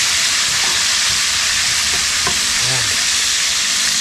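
Fish frying in a pan gives a loud, steady broadband sizzle that fills the whole stretch, with a few faint pops and clinks near the middle and no talk over it.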